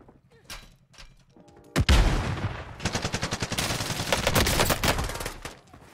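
Gunfire in a competitive first-person shooter tournament match, with a sharp opening shot and then a dense run of rapid automatic bursts, loud and close, which tails off at the end.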